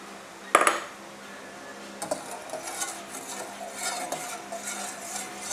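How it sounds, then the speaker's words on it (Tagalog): Coconut milk (gata) with sugar is stirred in a pot for ginataang bayabas: a sharp metallic clank of the spoon, then soft continuous scraping and swirling against the pot, close and steady. "Mix lang kasi para hindi magbuo-buo yung gata."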